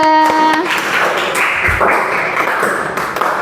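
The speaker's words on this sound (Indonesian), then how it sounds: "Tepuk tangan untuk kelompok 2." Students clap for a group in a classroom, a short ragged patter of hands after a brief ringing tone, with taps and thumps mixed in.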